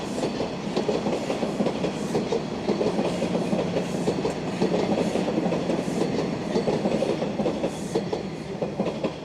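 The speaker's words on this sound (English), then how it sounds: "I see you, northbound train." A northbound Toronto subway train passes on open tracks, a loud continuous rumble with steady clickety-clack of wheels over rail joints throughout, without speech.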